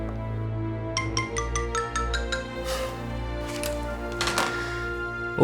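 A phone ringing in a short electronic burst pattern while a caller waits for an answer, fairly quiet, with a few faint rustles afterward and no talking.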